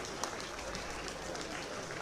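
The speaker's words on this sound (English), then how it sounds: "Please, a round of applause." Faint, distant applause from guests at the coronation of the Oba of Benin, honoring the wives and queens in attendance, heard as a soft, continuous patter of clapping hands with a few slightly louder claps.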